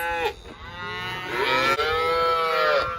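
Cattle and calves in sorting pens during spring ranch work bellow loudly and close, with long overlapping moos running almost continuously.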